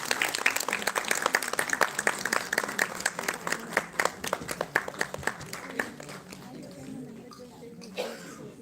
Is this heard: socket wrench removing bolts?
no